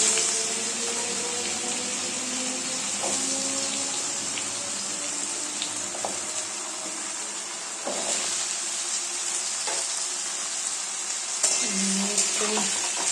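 Potatoes and eggplant frying in a pan after dried chillies, a steady hiss running throughout with occasional soft clinks, fairly close and at an even level, with no talk.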